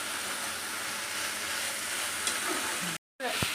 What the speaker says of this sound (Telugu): ఉల్లిపాయ టమాటా కలర్ మారేంత వరకు ఇలా ఫ్రై చేసేసుకోవాలి